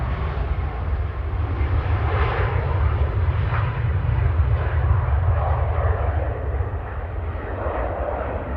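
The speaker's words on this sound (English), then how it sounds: "Ryanair off to Berlin there, EIIJA" A Ryanair airliner departs from Manchester Airport for Berlin with a steady, heavy jet engine roar rumbling low and strong. It holds loud and unbroken at a moderate distance throughout.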